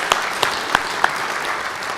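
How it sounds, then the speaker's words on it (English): Audience applause at a policy conference session, a steady wash of clapping with a few sharper individual claps standing out near the start before it evens out. "A round of applause for John"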